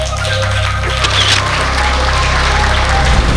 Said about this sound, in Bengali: জোরদার করতালি সবাই মিলে